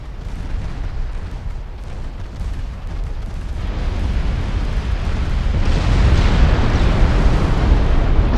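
Torpedo hits exploding against a slow enemy battlecruiser in Ultimate Admiral Dreadnoughts, a continuous loud rumbling roar of blasts that swells and thickens toward the end, with no talk over it.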